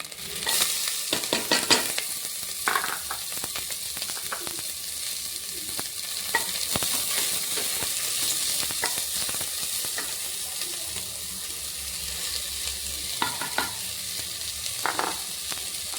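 Onion and green chilli with ginger garlic paste frying in a pan, a dense constant sizzle close up, punctuated by repeated scraping and clinking of a stirring spoon.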